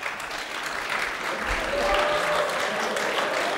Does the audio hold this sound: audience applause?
yes